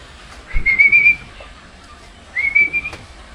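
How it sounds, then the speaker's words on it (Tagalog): Two sharp rising whistle calls are blown at a pigeon training toss, each lasting about half a second and separated by a pause, loud and close against faint outdoor background. "Nandiyan may pito ko."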